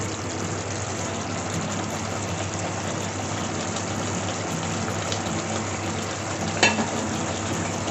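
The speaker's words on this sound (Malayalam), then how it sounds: "നന്നായിട്ടൊന്ന് ഇളക്കി കൊടുക്കാം." Steady stirring and frying noise from beef stew cooking in a pan in a Kerala-style kitchen, continuous and close, with one brief clatter near the end.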